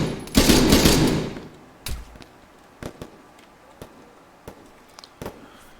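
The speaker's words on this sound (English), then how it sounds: "So I'm going to fire a couple rounds at them." Video game gunfire: a loud close burst of rapid rounds, then a string of single sharp shots spaced about a second apart, quieter and more distant.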